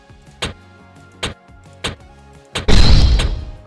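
Item upgrade at the blacksmith in Metin2, several short percussive game thumps spaced apart, then a loud booming crash that rings out and slowly decays.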